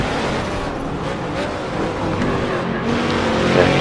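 Ginetta GT4 race cars at full speed on a circuit during a European GT4 Championship race, a dense continuous engine roar with no breaks that swells slightly toward the end.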